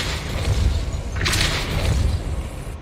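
Depulso spell cast in the Hogwarts Legacy video game, a deep boom under a loud rumbling game bed with a bright whooshing, shattering burst in the middle.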